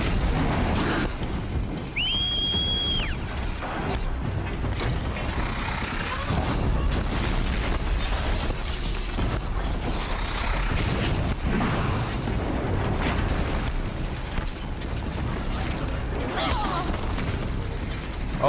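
Mechanical whirring, creaks and metallic rumbling from a Corruptor machine in Horizon Zero Dawn, with a short high electronic tone early on, steady and fairly loud, and a voice speaking now and then.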